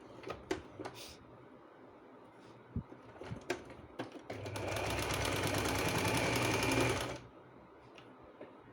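Sewing machine stitching a fabric loop onto a garment sleeve, a few sharp clicks and taps from handling the cloth, then a steady fast mechanical whirring run of about three seconds before stopping, close and loud.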